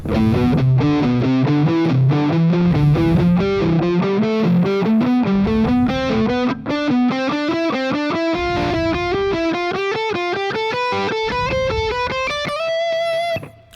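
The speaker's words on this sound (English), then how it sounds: "Sequence run always using 4 notes in the scale" Distorted electric guitar runs up a scale in repeating four-note groups, steady and loud, climbing higher throughout.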